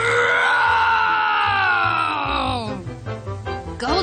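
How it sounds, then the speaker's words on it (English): Papa Bear in a storybook tale lets out a long, loud, low rumbling growl that sinks in pitch, then breaks into rough, pulsing grunts near the end, close and alone. "The Papa Bear let out a low, rumbling growl that shook all 3 beds."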